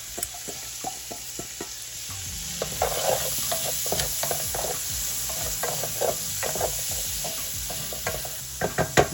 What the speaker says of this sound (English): Keep stirring it. Don't want the garlic to burn.